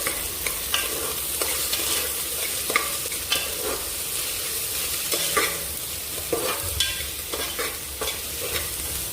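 Chopped onions with ginger garlic paste fry in a pan for dill leaf upma, giving a steady close sizzle broken by repeated scraping stirs of a spoon against the metal. No one speaks.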